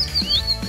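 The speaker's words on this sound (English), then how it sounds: "And the birds flying." Birds chirp in short, high tweets over a low background hum in a farm diorama scene, a brief bright call sweeping upward midway.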